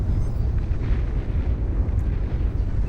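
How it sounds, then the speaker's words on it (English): Naval destroyers fire away in a Beyond All Reason 8v8 real-time strategy battle, a steady, dense rumble of distant cannon blasts blending into a continuous low roar without clear separate shots. "Destroyers now firing away"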